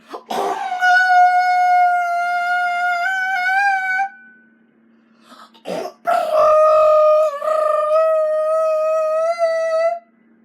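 A human voice imitates the Jurassic Park T-Rex roar in two long, loud, rasping bellows, each about four seconds, separated by a short gasp and pause, sliding slightly in pitch as they fade.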